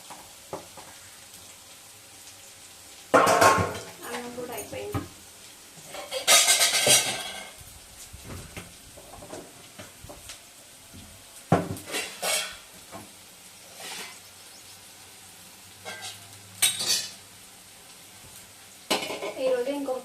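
Onions fry and get stirred in a pan on the stove, with a steady low sizzle broken by repeated sharp scraping and clanking of a utensil against the pan, close and fairly loud, no talk.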